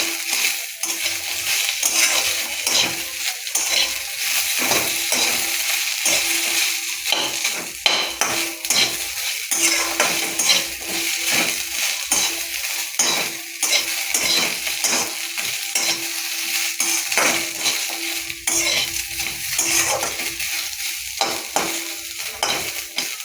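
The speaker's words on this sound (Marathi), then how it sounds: "कांदा देखील आपल्याला तिखट ब्राऊन होईपर्यंत भाजून घ्यायचा आहे." Onion roasts in a pan for vangyache bharit, a rural-style eggplant dish, with a continuous sizzle and frying hiss while a utensil repeatedly scrapes and clinks against the pan in an uneven rhythm.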